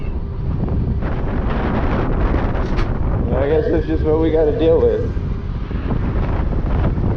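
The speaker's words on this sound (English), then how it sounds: "if it wasn't so windy today, we wouldn't be dealing with this" Steady low rumbling wind buffeting the microphone throughout an electric bike ride, with someone talking over it.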